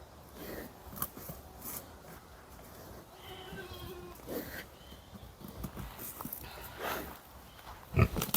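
Boar being held down and tied during home slaughter, giving several short grunts and snorts that shift with thumps and scuffling nearby, with quiet voices now and then.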